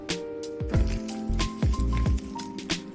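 A roasted Japanese sweet potato, yaki imo, pulled apart by hand, giving a few soft, moist squishing and tearing sounds at close range over a low steady background hum.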